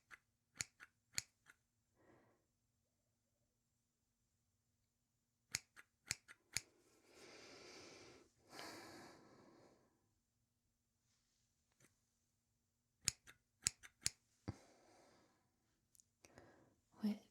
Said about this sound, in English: time for some snips.